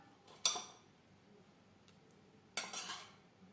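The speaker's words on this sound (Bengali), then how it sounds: "মশলার সব উপকরণ ও লবণ হলুদ দিয়ে মাছ বেশ ভালো করে মেখে নেব।" Hands mixing salt, turmeric, ginger paste and green chilli paste into latha fish for a marinade, heard as two short bursts of wet clinking and rubbing, close and fairly quiet, separated by a near-silent pause.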